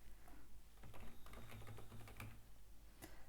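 Quiet typing on a computer keyboard, a quick run of soft key clicks at close range with one sharper tap near the end, no talking.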